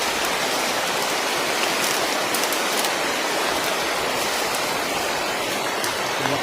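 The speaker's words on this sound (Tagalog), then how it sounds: "Lumakas na lalo yung ulan." Heavy rain growing stronger, a dense, even roar of downpour with no breaks and no talk.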